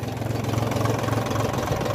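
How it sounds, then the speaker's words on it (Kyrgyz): A Japanese 18-horsepower mini tractor engine idles steadily up close, giving a continuous low, throbbing hum with an even pulse and no speech. "Ал эми бул трактордун моторун көрсөтүп коелу."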